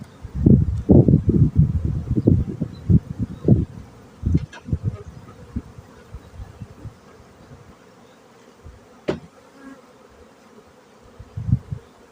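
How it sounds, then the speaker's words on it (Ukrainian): Honeybees buzzing close by in a dense, droning swarm that swells and fades in loud bursts, then settles to a softer hum. No one speaks. "Не так густо тут бджоли"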